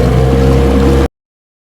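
A 1966 Evinrude 9.5 outboard motor runs on a lake, a loud, steady droning hum for about a second before cutting off abruptly to silence.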